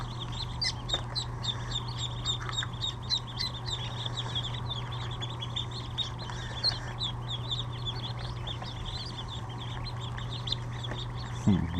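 Newly hatched rescued ducklings peep and chirp in a rapid, high-pitched chorus close by, with a steady low hum underneath throughout.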